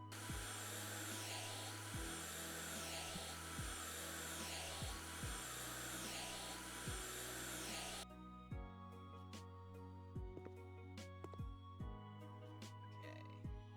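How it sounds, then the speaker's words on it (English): Synthetic vacuum cleaner whine plays as a squeegee cleans a window in the House Flipper video game. A steady, loud drone runs for about eight seconds and then cuts off, with quieter tool and rubbing sounds continuing after it. "it plays vacuum cleaner noises when you're using a squeegee to clean the window"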